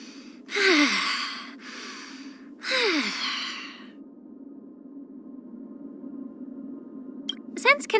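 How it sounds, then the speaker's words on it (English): Two slow, deep breaths, each a long airy inhale and exhale sigh, close and clear over a soft background hum, followed by faint chime-like tones. "Deep breaths."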